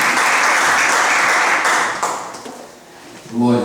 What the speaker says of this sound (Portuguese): Então uma linda salva de palmas